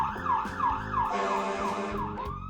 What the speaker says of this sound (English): The sirens blare.